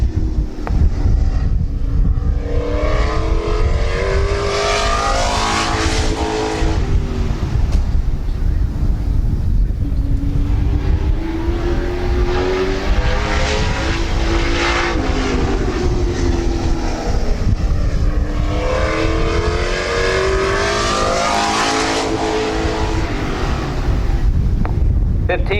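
Late model race cars run qualifying laps at Midvale Speedway, loud engines rising and falling in repeated sweeping passes as they circle the track, with wind buffeting over the roar.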